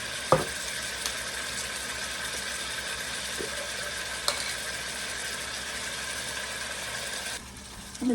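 Ground beef with dehydrated garlic and onion sautéing in a pan, a steady soft sizzle with a few light clicks of stirring and a small clatter near the end.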